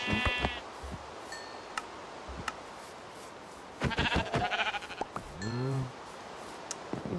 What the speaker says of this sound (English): Oh. Sheep. Come here,